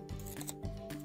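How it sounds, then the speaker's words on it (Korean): Scissors make a single short crunching snip through paper while someone trims a papercraft origami character. "필요없는 부분을 가위로 자를게요."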